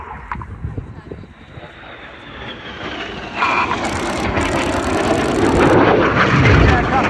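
Red Arrows Synchro pair jets at the 2024 Cosford Airshow swell from distant to a loud, sustained jet roar as they pass along the display line, with a commentator talking over them.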